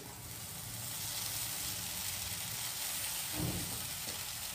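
Poha tipped into a pan with fried onion and turmeric sizzles in a steady, close hiss that runs throughout, with a brief thicker rustle partway through.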